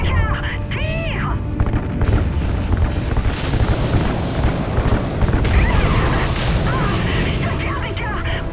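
Gunfire hits fuel lines and sets off an explosion, producing a continuous heavy roar and rumble with crashing bursts, loud and close, while voices shout over the din.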